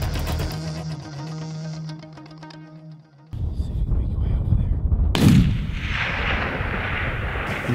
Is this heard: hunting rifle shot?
yes